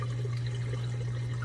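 Water pushes steadily through the grid of an aquarium sump filter roll, making a continuous low rushing hum with a faint trickle on top.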